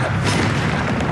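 Spell casts of Incendio and Levioso in the Hogwarts Legacy video game, a short loud booming burst of magical impact.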